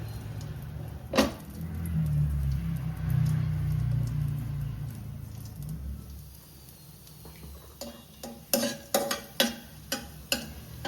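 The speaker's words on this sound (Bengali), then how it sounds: "কিশমিশটাও একটু ভালো করে ভেজে নেব।" Raisins fry in hot ghee in a pan for pilaf, a soft sizzle and stirring, then a run of sharp metallic spoon taps against the pan toward the end.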